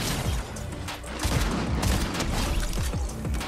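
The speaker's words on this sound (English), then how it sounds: "Almost choked that shotgun shot right there." Gunfire in the Fortnite video game, including a shotgun shot, crackles in a dense, loud burst of repeated shots and booms against constant game noise, with no talk.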